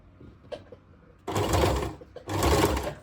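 A sewing machine stitches the hem of a churidar pant in two short close bursts of whirring, separated by a brief pause and light handling noises.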